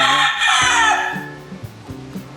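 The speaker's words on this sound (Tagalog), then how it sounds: "Mga manok ko na." A rooster crows loudly and up close at a Philippine pet shop, one long harsh call, then hens follow with several short, evenly spaced clucks as the call dies away.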